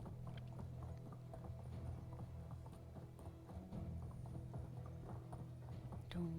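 Horse hooves gallop in the Medieval Dynasty video game, a fast, steady clip-clop of repeated hoof strikes, close and fairly loud, with some rattling tack and mechanical clatter underneath.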